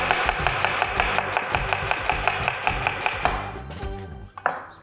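A knife chops dill and slivered red onion on a cutting board in a quick, steady run of about a dozen crisp, close thuds, then slows and stops with a final clatter.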